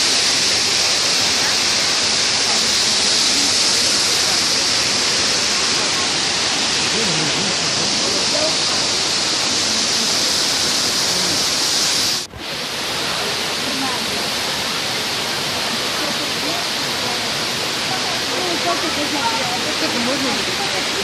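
A waterfall in the Carpathians of Volyn, western Ukraine, roars as a loud, dense, unbroken rush that fills the scene from start to finish, with one very brief dip partway through.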